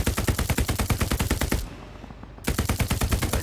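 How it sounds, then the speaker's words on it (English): Sustained machine gun fire from a Hell Let Loose match, loud rapid bursts with a brief lull in the middle before the firing resumes. "That MG is right there with that hit."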